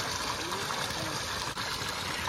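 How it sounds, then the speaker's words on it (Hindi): A running tubewell pours out only a weak flow of water, a steady broadband rush and trickle that holds constant throughout at moderate level, with no voices. "तो भाई अभी ट्यूबवेल चली तो लेकिन पानी कम आ रहा है"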